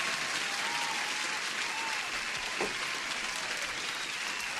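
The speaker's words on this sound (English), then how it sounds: "I'm gonna give an applause to Jeho" A canned applause effect plays during a live day-trading stream, a continuous dense wash of clapping at even volume lasting several seconds, with no talking over it.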